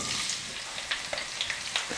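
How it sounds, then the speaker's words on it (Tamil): Thinly sliced onions fry in oil with cinnamon and cloves, giving a bright crackling sizzle with scattered pops and light stirring taps, close by and moderately quiet, no speech. "இப்போ வெங்காயமும் இது கூட சேர்த்துக்கிறேன்"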